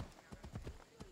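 Horse hooves clip-clop in the Assassin's Creed Odyssey video game, a quick, rhythmic run of soft, fairly faint hoofbeats with faint voices in the background.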